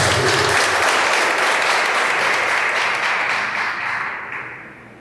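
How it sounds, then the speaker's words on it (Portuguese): A church congregation claps together in a loud, dense burst of applause that fades out over the final second, no speech over it. "Uma salva de palmas para Jesus."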